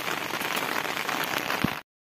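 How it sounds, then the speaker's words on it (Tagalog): Steady rain falls on sacking laid over a garden plant, a dense even hiss with scattered drops, close and constant for under two seconds before stopping abruptly. "Ayan na, ulan. Nandiyan na."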